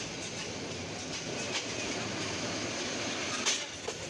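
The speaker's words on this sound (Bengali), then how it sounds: "তিস্তা এক্সপ্রেস ট্রেনটি ইতিমধ্যেই ময়মনসিংহ রেলওয়ে জংশন থেকে ছেড়ে দিল তার পরবর্তী গন্তব্য গফরগাঁওয়ের উদ্দেশ্যে।" Tista Express train leaving Mymensingh railway junction, with a steady, close rolling rumble and rail clatter throughout and a couple of brief metallic squeals near the end. No voices.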